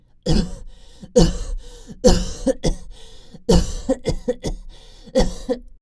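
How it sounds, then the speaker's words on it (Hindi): A girl coughs loudly in a string of harsh, throaty bursts, about eight in quick uneven succession, close and unaccompanied by talk. "तभी मिनी को काफी जोर से खांसने लगती है"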